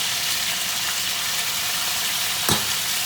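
Rabbit pieces with bay leaves, peppercorns and garlic fry in a hot pan, giving a steady, even sizzle throughout, with one brief louder crackle or stir near the end.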